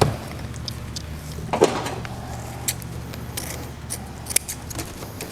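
Scissors snip through lengths of ribbon while trimming decorations for a Christmas tree, a few soft, close cuts against a quiet room with light rustling.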